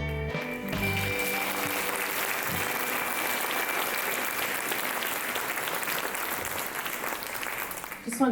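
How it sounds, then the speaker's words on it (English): Audience applause at a Helene anniversary event at UNC Asheville, a steady full round of clapping from a room of people lasting several seconds, with a brief voice at the start. "We could give him a round of applause."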